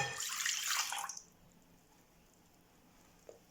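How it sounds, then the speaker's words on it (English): Lukewarm milk pours into a large mixing bowl for cinnamon rolls, a close, steady splashing stream for about a second that cuts off, leaving a quiet room with a faint knock near the end. "we're going to add our lukewarm milk"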